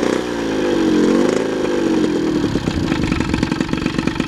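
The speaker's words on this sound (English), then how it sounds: "It seems to run and rev a lot." A Ciao moped with a tuned E8 engine buzzes close by, its pitch rising and falling through a rev before it drops into a rough, rapidly pulsing idle.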